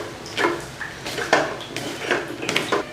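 Soaked bitter gourd slices stirred in a bowl, giving a run of soft clinks and scraping knocks against the dish at an uneven pace, close and fairly quiet.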